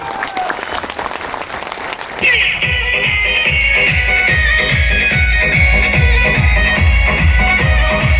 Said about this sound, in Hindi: प्लीज एक बार जोरदार तालियां उनके लिए।